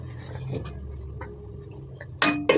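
A lid set onto a cooking pot near the end: two quick bright metallic clinks, close and loud against a quiet kitchen hum with soft earlier knocks.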